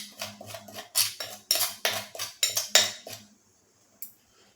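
A spoon scrapes and clinks around a bowl while three ground spices are mixed into a masala for topping fafda: about a dozen quick, rhythmic close strokes, then stillness broken by one last light tap.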